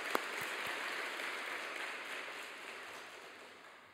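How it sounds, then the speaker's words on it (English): Wedding guests applaud a choir at the reception: a broad, even wash of many hands clapping, fairly distant and soft, holding steady then fading gradually. "we won't have an opportunity to applaud this grand choir here"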